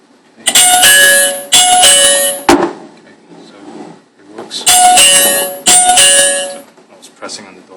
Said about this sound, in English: Pressing on the doorbell.